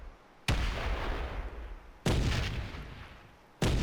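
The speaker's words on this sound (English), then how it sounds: "Bring in the orbital fire." Three heavy orbital-strike artillery blasts from the video game Space Engineers land about every second and a half, each a loud sudden boom trailing into a long rumbling decay.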